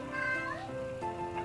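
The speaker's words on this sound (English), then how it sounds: "And that's my cat." A house cat meows several times in quick succession, its voice rising and falling in pitch, fairly close and clear against a quiet indoor background with no talking.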